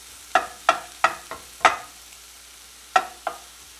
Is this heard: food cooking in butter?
yes